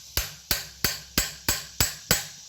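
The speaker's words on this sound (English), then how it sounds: "use my hammer" A hammer taps the fan clutch on a 2007 Ford F-150 4.2L V6, seven sharp metallic strikes in a steady, evenly spaced rhythm, close and clear with no talk.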